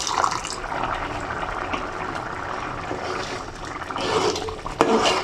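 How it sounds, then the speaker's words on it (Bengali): Water pours steadily into a cooking pot of potato and chicken khichuri, a close, continuous splashing gush that swells a little near the end. "আমি সবটুকু পানি দিয়ে দিচ্ছি"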